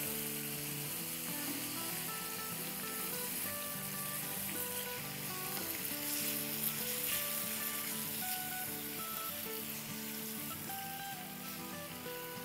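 A thin tandoori burger patty fries in a pan with a steady, dense sizzle that holds evenly throughout, close and continuous with no talking.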